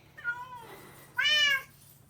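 A house cat meows twice indoors, a short call followed by a louder, drawn-out meow, close and clear over faint background hum.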